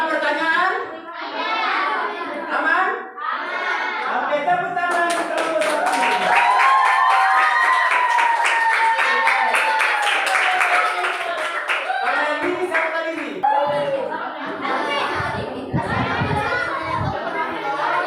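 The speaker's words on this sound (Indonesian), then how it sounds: "tepuk tangan kelompok 1" A class of schoolchildren claps in unison for group 1, a burst of dense clapping lasting several seconds amid children's chatter and a teacher's voice before and after.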